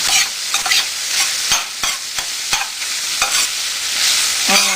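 Spaghetti stirred in a pan with frying garlic, a steady loud sizzle broken by repeated sharp scrapes and clicks of the utensil against the pan, with no voices.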